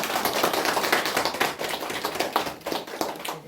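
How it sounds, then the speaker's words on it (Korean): Teachers at a new-staff orientation clap together in encouragement, a dense, steady burst of many hands close by that fades a little toward the end, with no talking over it. "우리 선생님들 또 한 해 우리 수고해 주시도록 우리 감사 격려의 박수 부탁드립니다"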